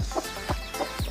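Chickens clucking close by, four short rhythmic clucks in quick succession with no talk.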